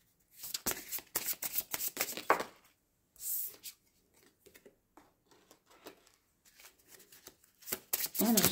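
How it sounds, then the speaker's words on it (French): Tarot cards are shuffled and handled, with quick riffling bursts followed by softer slides and taps as cards are drawn, close and fairly quiet, with brief pauses between. "je vais tirer 3 cartes"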